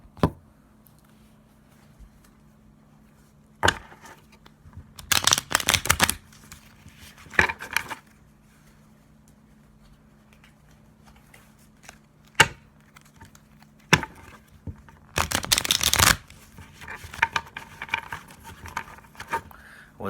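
Tarot cards being shuffled for a Cancer reading, giving a few bursts of quick papery riffling and flicking at close range against a quiet room hum, with short taps and rustles between the bursts.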